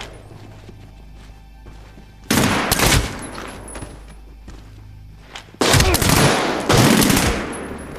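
Gunfire in the shooter game Medal of Honor: Warfighter: two loud, dense bursts of rapid shots break over a quiet low hum, the first around two seconds long and the second longer and more sustained.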